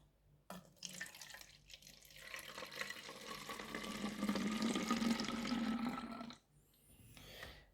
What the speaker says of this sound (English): we're just going to add 2/3 of a cup of water